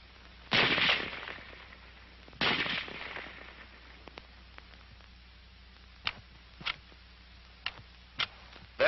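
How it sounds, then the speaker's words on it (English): An M1 Garand rifle in a 1942 US Army training film: two loud shots a couple of seconds apart with echoing tails, followed by softer sharp clicks and snaps of the action, heard alone without narration. "The rifle will fire each time the trigger is pressed until the magazine is empty."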